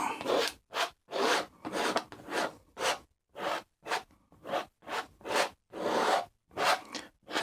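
Scraping paint across a canvas on a Middle Earth landscape painting: a steady series of about fifteen rasping scrapes in an even rhythm, close and distinct, separated by brief silences.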